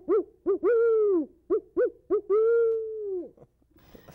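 A person imitates a barred owl, voicing a series of short hooted notes followed by two long drawn-out hoots that fall off at the end, clear and close with no other sound around them.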